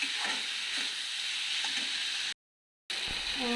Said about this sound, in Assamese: এইখিনি এতিয়া খুব ধুনীয়াকৈ অলপ ভাজিলোঁ